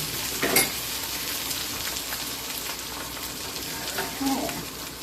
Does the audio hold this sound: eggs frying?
yes